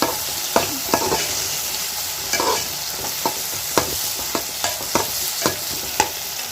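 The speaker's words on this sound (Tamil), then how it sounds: "இப்போ தக்காளியும் சேர்த்து நல்லா வதக்கிக்கிறேன்" Tomatoes sauté in a hot pan for a tamarind kuzhambu with cowpeas and okra, a steady sizzle broken by regular scraping stir strokes roughly every half second, close and clear with no talking.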